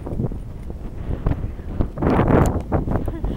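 Cold wind gusting into a microphone while walking outdoors, rough buffeting that swells and fades, loud and close, with people talking through it.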